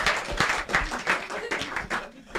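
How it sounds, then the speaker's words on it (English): Audience clapping for an elder at a Brekete Family radio program gathering, a short burst of mixed hand claps with cheering voices running through it, fairly close and steady before tapering slightly. "We're gonna clap for elder"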